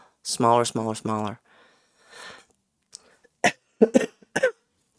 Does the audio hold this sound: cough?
yes